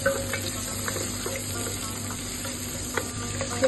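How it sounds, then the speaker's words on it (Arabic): Onion and carrot sauté in butter in a pot for lentil soup, a steady close sizzle with a few light stirring clicks and no talking. "شوحت البصل شي بسيط، حطيت فوقه جزر، وحطيت زبدة عشان يعطي كذي طعم حلو."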